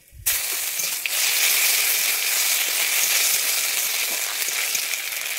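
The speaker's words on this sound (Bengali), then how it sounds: "আমি তেলের উপরে একটু হলুদ দিয়ে দিচ্ছি, দিয়ে এবারে আমি দিয়ে দিচ্ছি আদা বাটা" Turmeric and ginger paste hitting hot oil in a pan for a moong dal with vegetables: a sudden loud sizzle that holds as a steady, close frying hiss, with faint scraping and no voices.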